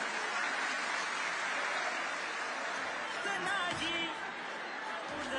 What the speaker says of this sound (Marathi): मी माझ्या माय भगिनींना दादांचं टाळ्या वाजून अभिनंदन करावं त्यांचं स्वागत करावं अशी देखील विनंती करतो